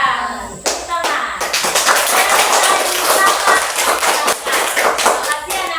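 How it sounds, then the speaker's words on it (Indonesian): Children in a primary school classroom clap their hands together at the close of a lesson, loud and close, with sharp uneven claps and some taps and thumps under brief talk. "Tepuk tangan."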